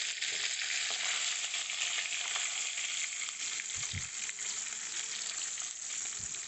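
Hilsa fish frying in oil in a pan, a steady close sizzle and crackle throughout, with a couple of brief low knocks near the end, no talking.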